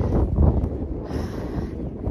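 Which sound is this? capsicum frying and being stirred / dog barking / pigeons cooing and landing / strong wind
strong wind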